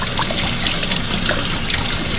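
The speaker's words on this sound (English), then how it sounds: "I'm going to give it a real good rinse." Running water streams and trickles close by as a bluefish fillet is rinsed, making a steady, even splashing wash with no talking.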